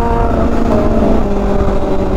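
A loud Yamaha R1M motorcycle engine drones close by with a rising, revving tone over road rumble, brief and strong.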